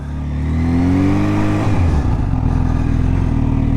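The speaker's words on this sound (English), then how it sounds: "Kawasaki H2." A Kawasaki H2 motorcycle engine revs loudly and close, its pitch climbing as it accelerates, then settles into a steady rough roar with a rattling edge.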